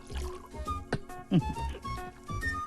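Liquid pours into a cup in short splashy bursts, with voices talking nearby over the trickle.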